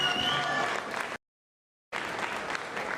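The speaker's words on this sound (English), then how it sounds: "Round of applause for these two." A crowd at a boxing press conference applauds and cheers, a dense wash of clapping with voices mixed in that cuts to dead silence for a moment, then resumes just as loudly.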